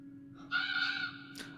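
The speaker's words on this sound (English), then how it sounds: "Crows not good signs" A single crow caws in a drawn-out, harsh call over a steady background hum, followed by a brief sharp noise near the end.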